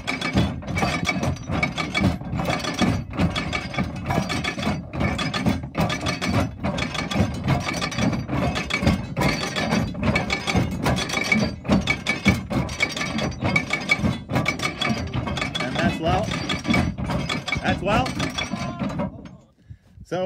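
A ship's crew works a hand-cranked windlass to haul in anchor chain, giving a continuous rhythmic run of wooden knocks, ratchet clicks and metallic clinks at close range, with voices heard in the background.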